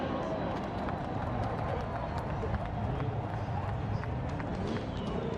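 A crowd at a Formula Drift Seattle event pounds its feet in the stands, a dense continuous rumble of stomping with scattered claps and talk mixed in.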